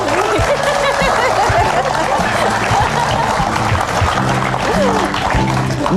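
A live audience claps and chuckles in a loud, dense burst of applause mixed with laughter, while a voice talks over the noise.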